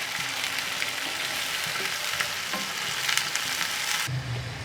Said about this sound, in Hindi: कलेजी को फ्राई होते हुए 5 मिनट हो चुके हैं